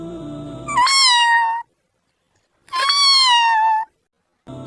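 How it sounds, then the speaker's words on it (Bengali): Two clear, drawn-out cat meows separated by a pause of silence, close and loud, with the start of a third at the very end. "হঠাৎ বারান্দা থেকে মিউ মিউ শব্দ ভেসে এলো"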